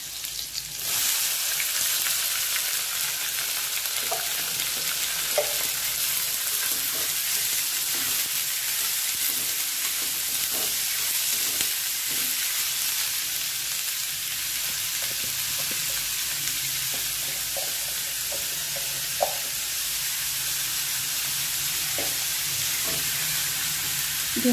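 Five finely chopped onions frying in a pan for a spicy Vidarbha-style onion chutney: a loud, continuous close sizzle with scattered pops and crackles, no talking.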